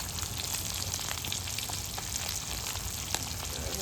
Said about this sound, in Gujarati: તેલ લઈને છે ને આવી રીતે નાખવાનું ભાઈ માછલીની ઉપર